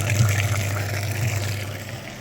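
Water rushing steadily through the dirty cooling system of a Chery Tiggo car during a flush, a loud continuous gushing splash for a couple of seconds.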